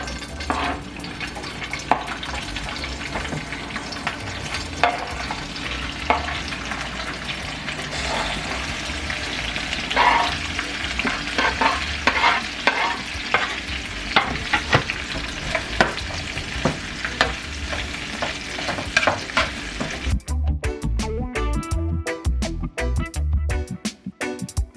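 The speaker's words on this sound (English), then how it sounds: "We are now going to apply them in the pot and do some saute." Carrot, onion, pimento and scotch bonnet sautéing in a pot for escovitch fish, a loud continuous sizzle with frequent scraping stirs, close by, shifting near the end toward a rougher, noisier hiss.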